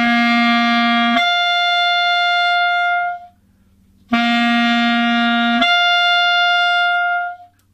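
Clarinet notes leaping up into the upper register as the register key opens, two loud, steady sustained tones with a clean jump in pitch partway through each, separated by a short silence.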